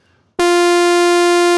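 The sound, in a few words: Prophet synth sawtooth tone with low-pass filter fully open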